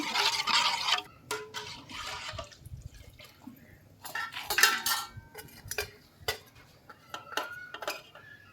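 A metal spoon stirs and scrapes a pot of spicy buttermilk sambar, giving irregular clinks and knocks with wet, liquid sloshing between bursts, close and fairly loud.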